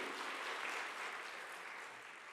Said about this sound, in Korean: 은혜 주신 하나님께 영광의 박수 올리겠습니다